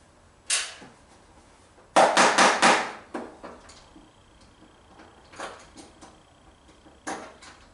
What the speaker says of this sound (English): give them a little tap with the screwdriver handle and that'll shake them out